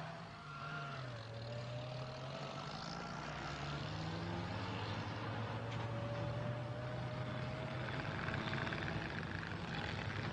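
Military aircraft and helicopters drone continuously with a steady engine roar and slowly shifting pitch, heard at a distance over the rumble of trucks during an Algerian War operation in Kabylie.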